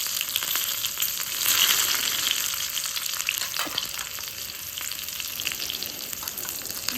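Sliced onions lightly frying in a pan for a chili pizza topping, a steady close hiss and crackle of sizzling oil running throughout, swelling slightly at times, with no voices.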